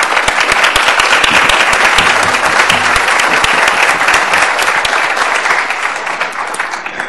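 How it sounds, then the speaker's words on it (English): Loud, sustained applause fills the room at a city commission meeting as a youth advisory council stands to be recognized, with many hands clapping steadily before slowly tapering near the end. "give them a round of applause."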